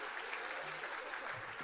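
A magic show audience claps in sustained, dense applause, moderately loud and continuous throughout.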